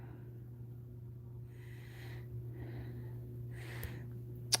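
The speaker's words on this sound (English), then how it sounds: "So if y'all hear her snorting and snoring," A resting dog lies close by, breathing with soft snorts and light snoring in short bursts over a steady low hum in a quiet room.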